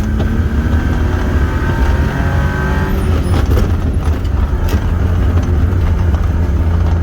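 A kei truck engine drones loud and steady close by, with pitch changes as gears shift through the run.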